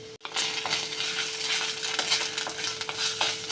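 Crushed ginger and garlic frying in coconut oil for a homestyle chicken curry, a steady close sizzle throughout with occasional light stirring clicks after a sharp start.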